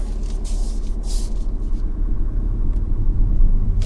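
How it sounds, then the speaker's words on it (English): A learner's car idles as gas is applied and the clutch lifts to the bite point, a close, low engine rumble with a subtle shift in revs and a few light knocks, no voices. "as you use your gas to move off you then lift the clutch to the bite and you'll hear the engine revs change"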